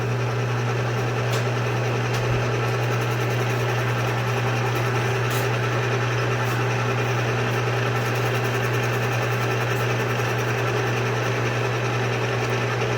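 A machine takes a light skim cut, about 40 thousandths, off a Husqvarna chainsaw cylinder being prepared for porting. It makes a steady, continuous mechanical hum and whine that stays even throughout, with no talk.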